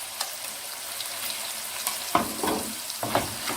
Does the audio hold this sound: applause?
no